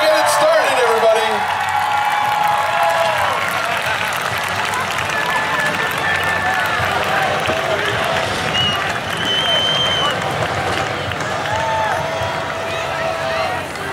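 A crowd at a county agricultural fair's minivan demolition derby cheers and claps continuously, loud and dense throughout, with a public-address announcer talking over the noise.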